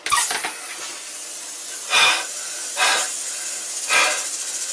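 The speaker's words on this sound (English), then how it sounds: "Blowing up a balloon." Balloon being blown up with several strong breaths, each a breathy hissing rush of air coming in a slow rhythm about once a second, close and fairly loud with no talk.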